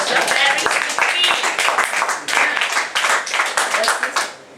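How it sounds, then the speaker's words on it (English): Audience at a lecture on the body's biological clock clapping in a lively, irregular burst of sharp hand claps, close and loud, fading near the end, with some voices mixed in. "How about clap again?"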